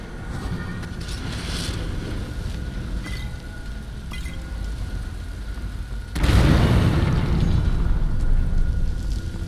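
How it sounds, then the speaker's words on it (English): A flame explosion spell goes off in the video game Skyrim, a sudden loud roaring burst that jumps out of a steady ambient background partway through and keeps rumbling afterward. "Man, that flame explosion works really well"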